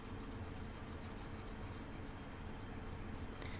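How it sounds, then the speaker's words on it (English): An eraser rubs writing off a board during a maths lesson, a close, continuous scrubbing swish that stays even throughout and ends with a short tap near the finish. "I'll erase right here."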